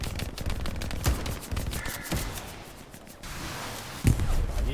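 Gunfire in the World War II shooter game Hell Let Loose, a few sharp shots spread over several seconds amid thuds and background battle noise, with some voice at times.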